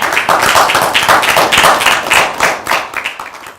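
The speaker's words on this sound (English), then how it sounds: "So I'd like to give them a round of applause." A small audience at a USC student policy research internship event claps for the students and partners, individual hand claps standing out in a loose, uneven rhythm, fairly close and loud, tapering off at the end.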